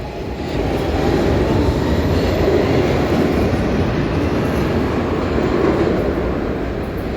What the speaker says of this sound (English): Yeah, we go from here to our second and last train.